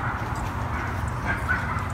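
Dogs playing and scuffling at an off-leash dog park, close by, with a busy, continuous mix of movement and low yips under steady outdoor noise.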